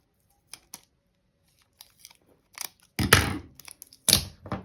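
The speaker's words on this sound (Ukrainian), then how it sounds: "відрізаю невеличкий шматочок" Scissors snip a small piece of adhesive tape during a children's handicraft lesson, giving a few faint clicks, then two louder, closer crunchy cuts near the end, with no talking.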